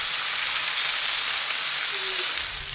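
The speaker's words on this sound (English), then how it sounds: "give them a good sear, good seal, so you should hear that sizzling sound" Steaks sear on a hot barbecue grill, a loud dense sizzle hissing continuously and close up, with no talking.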